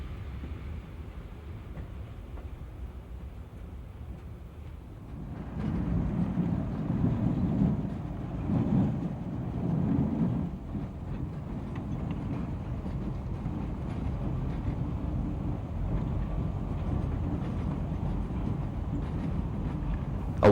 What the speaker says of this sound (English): The end of the train passes through East Portal and passes the crew houses